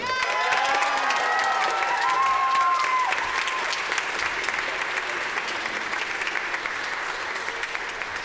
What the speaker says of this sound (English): this young lady deserves a great round of applause